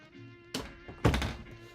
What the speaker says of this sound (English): I can close the door now.